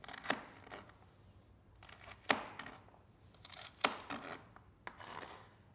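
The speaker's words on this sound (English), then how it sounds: "cutting it into nice small squares to mix into your sauce later" Knife chopping celery into small cubes on a cutting board: a few sparse, crisp chops spaced well apart, quiet and close, with no talking.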